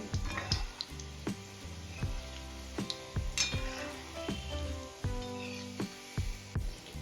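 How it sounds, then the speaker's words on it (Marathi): Sweet potato gulab jamun deep frying in hot oil, a steady soft sizzle with repeated clinks of a utensil against the pan as the balls are gently stirred, close and alone. "थोडंसं हलवून घ्यायचं इथे आपले छान गोल्डन कलर येईपर्यंत गुलाबजामुन तळून घ्यायचे आहे"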